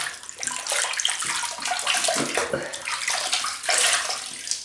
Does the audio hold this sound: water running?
yes